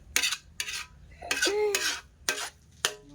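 Pork sisig stirred in a pan with a metal utensil, a handful of separate scraping, clattering strokes in an uneven rhythm against soft sizzling, heard close up with no talking.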